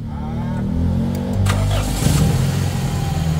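Toyota 4A-FE car engine with a head gasket problem cranking and starting, a loud low rumble that builds into steady idle with rough, uneven firing, close up in a workshop setting.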